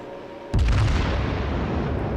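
Battleship main guns firing in World of Warships, a sudden heavy boom that rolls into a sustained loud rumble, close and alone without talk.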